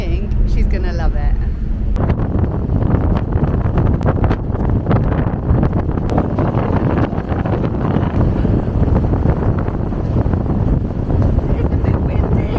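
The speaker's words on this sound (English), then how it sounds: "It's a bit windy." Strong wind on the deck of a ferry crossing to Ireland, loud steady buffeting roaring against the microphone throughout, with a voice speaking briefly at the start.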